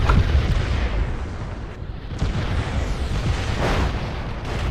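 Mortar rounds burst in a MechWarrior Living Legends match, producing a dense rumbling barrage of loud, overlapping booms that keep rolling without pause.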